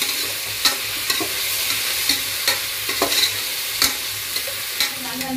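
Onions and tomatoes sauté in a pan with a steady sizzle, broken by sharp scrapes and clanks of a spoon stirring every second or so, close and fairly loud with no talking.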